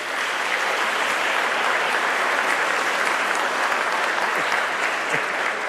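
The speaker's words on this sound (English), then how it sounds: "so please give them a round of applause" A town hall audience applauds steadily throughout, a dense, even wash of clapping with no pauses and no voices.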